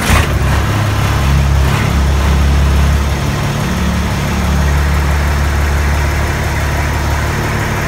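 An IH 986 tractor's diesel engine runs at a steady, loud idle close by, a throbbing low rumble that holds evenly throughout, with no talking.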